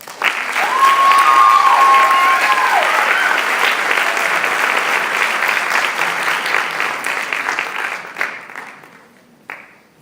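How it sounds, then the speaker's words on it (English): Loud, sustained applause from a ceremony audience honoring award recipients at a high school honors ceremony, steady dense clapping for about eight seconds before thinning into a few scattered final claps. "Please give these warriors a great applause."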